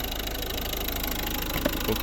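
A 2011 Volvo V50 with the 1.6 HDi eight-valve 115 hp diesel idles steadily, giving a continuous close mechanical hum with a faint knocking texture and no talk.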